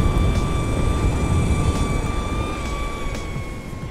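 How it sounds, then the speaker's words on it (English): Electric skateboard motors on an Exway X1 Pro Riot whir with a steady high tonal hum over loud rumbling wind and road noise, fading slightly toward the end. "You gotta love the whir of the motors."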